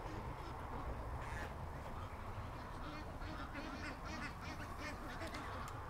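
A flock of ducks quacks and honks as they head in on a farm, many birds calling at once over steady outdoor background noise, moderately distant.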